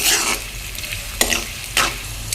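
Chicken curry ingredients with green chillies frying in a pan, a steady bright hiss with a few louder stirring scrapes at intervals, close and alone.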